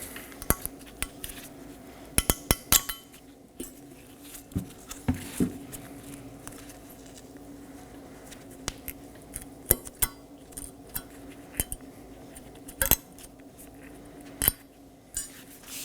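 Metal brake pads and shims being pulled from the rear caliper bracket of a 2015-2023 Nissan Maxima, producing scattered sharp clinks and clanks at close range, with quiet pauses between and no talking.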